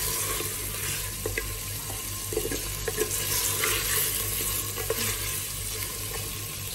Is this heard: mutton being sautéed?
yes